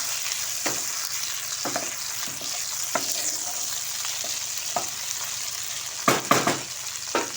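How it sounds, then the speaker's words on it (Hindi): Whole green chilies sizzle with onions in a hot pan, a steady close frying hiss broken by occasional sharp pops and spatters, loudest near the end. "अब मैं डाल दूँगी इसमें ये साबुत ग्रीन चिली।"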